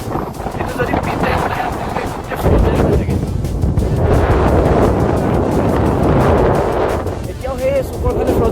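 Strong wind sweeps across Sela Lake in Arunachal Pradesh, roaring and buffeting close to the microphone, growing heavier partway through while a person talks over it.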